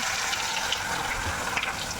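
Chicken kebab 65 masala pieces hit hot frying oil, giving a steady, dense hiss of bubbling oil that stays even and unbroken throughout.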